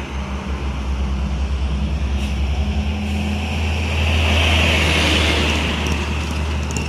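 An Adiputro Jetbus 3 HDD bus rolls past on a road with a deep, steady engine rumble and rushing tyre and wind noise that swells and then eases away.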